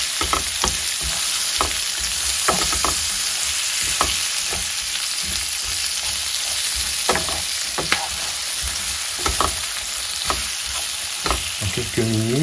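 Chicken pieces browning in a pan over low heat throw off a dense, constant sizzle, broken by regular stirring scrapes and clinks of a utensil against the pan, close and loud, no talking.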